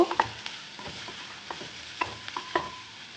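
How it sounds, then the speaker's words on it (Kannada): Spices fry in a pan for pepper chicken, a soft sizzle with several light scraping stirs and utensil taps against the pan, close and fairly quiet. "ಸ್ವಲ್ಪ ಫ್ರೈ ಮಾಡ್ಕೋಬೇಕು ಹಸಿ ವಾಸನೆ ಹೋಗೋರೆ ಒಂದು ನಿಮಿಷ ಫ್ರೈ ಮಾಡಿಕೊಂಡ್ರೆ ಸಾಕು"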